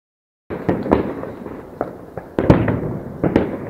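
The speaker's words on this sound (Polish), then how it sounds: "Po prostu wybuchy z każdej strony." New Year's Eve fireworks and firecrackers burst all around, a loud irregular string of sharp bangs and pops, some near and some farther off, after a brief silence at the start.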